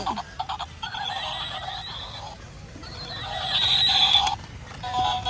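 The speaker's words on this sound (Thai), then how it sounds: "ซีบรา ม้าลาย" Zebra calling with a series of high, braying, whinny-like barks, several repeated calls rising and falling against a faint background hiss.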